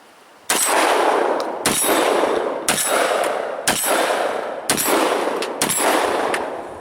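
A Mossberg 930 semi-automatic shotgun fires six loud, sharp blasts at roughly one-second intervals, each shot followed by a brief ringing echo, with no talking.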